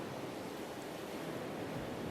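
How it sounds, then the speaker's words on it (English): Ocean waves from a Logic sound effect bank, a steady broadband wash of surf with a wide reverb and no distinct breaks, filling the short stretch. "And then some ocean."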